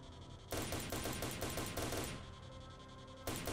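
Rifle fire in the shooter game S.T.A.L.K.E.R., a fast automatic burst of loud, close shots that stops briefly and then resumes, with no talking.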